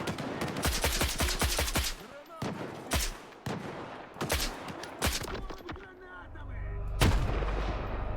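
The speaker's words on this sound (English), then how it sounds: "I made him drop his own grenade" Heavy gunfire and explosions in the shooter game Stalker 2, with loud rapid bursts at the start and several booming blasts, including a big grenade detonation near the end that carries a long low rumble.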